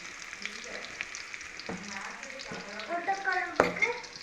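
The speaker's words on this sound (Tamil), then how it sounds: "தேங்காய், தக்காளி, வெங்காயம், பூண்டு, இஞ்சி, கொத்தமல்லி எல்லாம் எண்ணெயில் வதக்கிட்டு" A masala of coconut, tomato, onion, garlic, ginger and coriander sautés in hot oil for egg curry, sizzling steadily with stirring scrapes that grow louder and busier toward the end.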